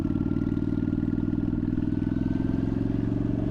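Custom 600 Shadow motorcycles idle and rumble nearby near a school street, with a steady low engine drone and rapid pulsing throughout, no voices.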